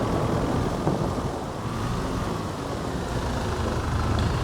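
Steady, dense rain falling outdoors on a farm, with a broad constant wash of sound and a low rumbling undertone, loud and unbroken with no talk.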